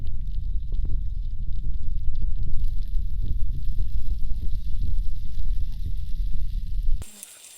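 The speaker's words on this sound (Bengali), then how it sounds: "দিচ্ছি আর একটু ভাজতে দিচ্ছি।" Tomato and onion frying in a pan with salt for a fish dish, a steady loud sizzle with scattered crackles and stirring taps, cutting off abruptly near the end.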